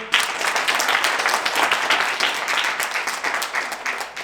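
A student audience claps together before the first team presents at a college capstone design competition, a full, even burst of applause that holds steady and tapers slightly at the end.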